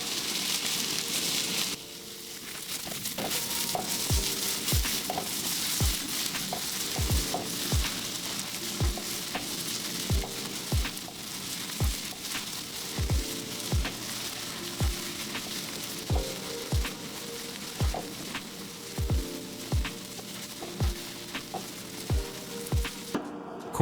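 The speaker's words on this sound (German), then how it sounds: "Wir dünsten sie ganz sanft an, bis sie schön glasig und leicht golden sind" Onions sautéing gently in a pan for a creamy chanterelle pasta: a steady soft sizzle runs throughout, punctuated by regular scraping strokes of a utensil roughly once a second, close and clear with no talking.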